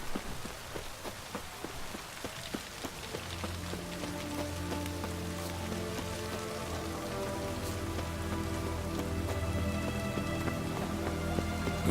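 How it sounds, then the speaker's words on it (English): Steady rain patters on surfaces in The Witcher 3: Hearts of Stone, a dense, even hiss with scattered drops, under a low sustained music bed that swells in later. "Looks like rain."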